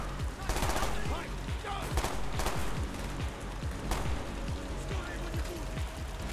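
Rapid bursts of automatic gunfire in the Black Ops 1 video game, loud and repeated in clusters throughout, with someone talking over the shooting.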